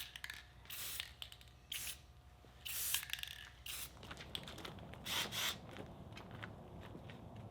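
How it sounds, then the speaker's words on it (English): Clear coat sprayed from an aerosol can onto disassembled fold-flat dip bars, heard as short hissing bursts of varying length, some close together, in a quiet room with faint mechanical rattles between. "gave it a few coats of clear coat"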